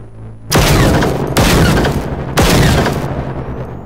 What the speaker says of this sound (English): Right, I'm shooting that tank